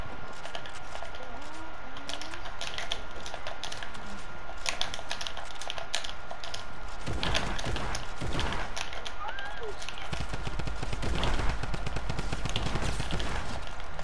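Rapid bursts of gunfire in a shooter video game, duo match, crackling in clusters over a steady background hum, with a few sharp shots and clattering volleys toward the end.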